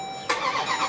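A 2016 Jeep Grand Cherokee SRT engine cranks and fires up close, with a sudden loud catch after a brief quiet lead-in, then settles into a rough, rising idle.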